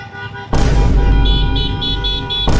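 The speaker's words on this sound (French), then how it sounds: "ça klaxonne la police" On a Paris street at night, a police vehicle horn sounds in a few short, repeated toots over loud traffic and motorcycle engine roar, close and loud.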